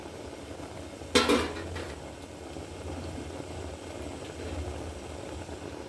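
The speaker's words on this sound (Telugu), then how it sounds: "ఇలా ఇడ్లీ ప్లేట్లు పెట్టాలి" Metal idli plates set into a steamer give one sharp clatter, followed by a faint rattle over a steady low bubbling hum.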